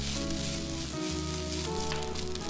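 Toasted garlic is sautéed for Java rice in a pan, making a loud, dense, continuous sizzle close up with no speech.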